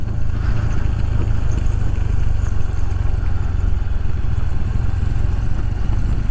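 A Kawasaki KLR 650 dual-sport motorcycle rips around nearby, its single-cylinder engine thumping in a steady, loud low rumble with a rapid pulsing beat that holds for several seconds.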